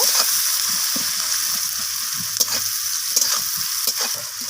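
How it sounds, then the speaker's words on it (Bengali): Onions fry in sizzling oil with a steady, bright crackling hiss, interrupted by occasional clanks and scrapes of stirring in a pan, close and continuous. "পেঁয়াজগুলোকে রং ধরা পর্যন্ত আমি পেঁয়াজগুলোকে ভেজে নেব"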